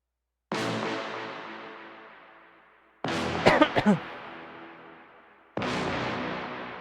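Brass chords carry the harmony in a hard-hitting boy group track: three sustained chord hits, each slowly fading before the next, played alone with a brief burst of extra notes over the second chord.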